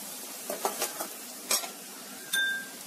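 Coriander powder and turmeric fry in a pan, a low sizzle under a few sharp scrapes and clinks of a spoon stirring against metal, close and with no talking.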